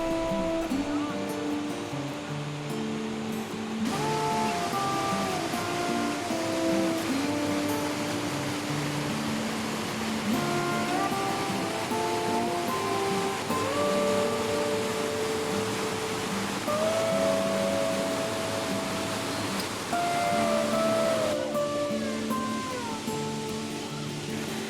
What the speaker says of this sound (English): Stainforth Force, a series of cascades where salmon leap in October